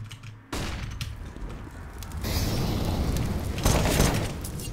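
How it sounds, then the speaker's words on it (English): A flashbang grenade thrown in CS:GO, heard as a sudden loud burst followed by sustained noisy roar and a second swell, with no talk over it. "Throwing flashbang."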